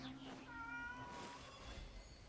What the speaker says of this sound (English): god, it's my other cat now